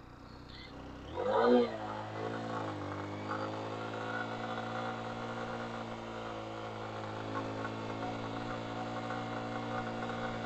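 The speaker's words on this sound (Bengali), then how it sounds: "বাইক উঠতেই চাইতেছে না" A motorcycle labors uphill on a steep hill road toward Thanchi in Bandarban, Bangladesh. Its engine drone swells briefly near the start, then holds a steady, strained, low humming tone for the rest of the clip.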